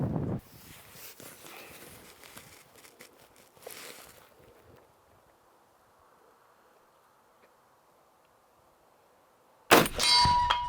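Bullets from a WWII German K43 rifle strike steel targets, giving a couple of loud metallic clangs with ringing, separated by a stretch of near quiet and faint background hum.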